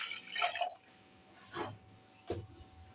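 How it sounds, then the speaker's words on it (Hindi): Water splashes and drips into a blender jug in a few short bursts, close and fairly quiet, with pauses between pours. "और इसके अंदर आपने 1 गिलास पानी ऐड करना है।"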